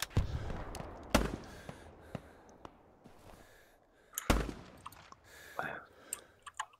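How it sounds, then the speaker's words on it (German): Gunfire in the video game Hell Let Loose, scattered single shots cracking out in bursts, loud near reports at the start and again midway, separated by quieter echoing gaps. "kann man sich ganz schön leer schießen. Ich treffe keinen Schuss."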